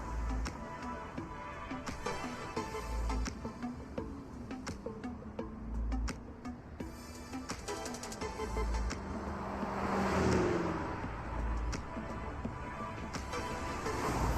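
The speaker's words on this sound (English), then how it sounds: "I need to step on the gas." A car accelerating in the video game Love and Deepspace, a steady, loud engine roar that builds and swells toward the end, alone with no talk over it.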